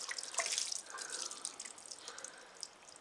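Water trickling and dripping from a VINGLI portable flushing toilet after a light flush, a close, quiet splashing patter that fades over a few seconds.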